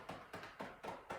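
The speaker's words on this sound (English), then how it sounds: "Tapping." Fingers tap rhythmically on the body during a self-massage, five soft evenly spaced patting thumps, close and fairly quiet.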